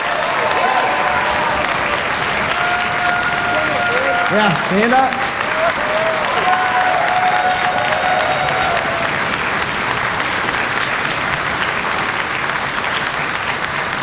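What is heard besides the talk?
audience applause at a high school orchestra concert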